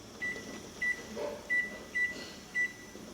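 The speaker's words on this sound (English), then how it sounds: "we're going to set a timer for 10 minutes." A kitchen timer is set during egg boiling, giving a series of short, clear electronic beeps at irregular intervals, close and distinct over a quiet room.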